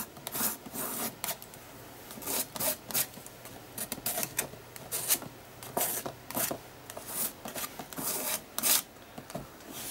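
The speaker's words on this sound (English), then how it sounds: "I'm going to start scraping that paint down" A spatula scraping paint across an art journal page, producing repeated short raspy strokes in an uneven rhythm, close and fairly clear with no talking.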